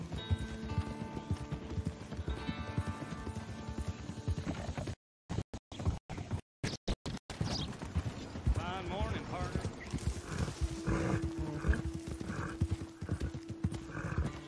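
Horse hooves clip-clop in the Red Dead Redemption video game, a steady rhythmic gait under ongoing talk, briefly cut by short gaps before resuming with a whinny-like tone.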